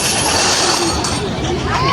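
Rattling, rumbling noise of a small children's ride train running close by in a children's park, with clinks and a faint squeal over a busy steady background.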